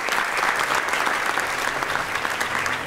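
An audience at a school theatre performance in Istanbul claps steadily, a dense and even roar of applause that fills the whole stretch with no pause.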